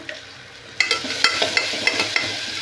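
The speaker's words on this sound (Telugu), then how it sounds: "బాగా ఫ్రై అవుతా ఉంది" Chicken seasoned with turmeric and salt frying for a pressure-cooker biryani, a close, loud, steady sizzle broken by regular scraping stirs of a spoon in the pot.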